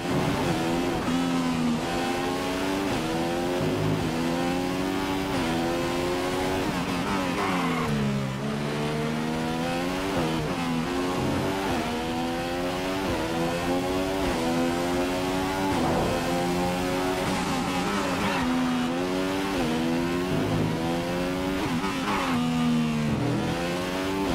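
Race car engine from the F1 2015 video game at the Russian circuit, a loud continuous whine that climbs and falls with repeated upshifts and braking downshifts, with no talk.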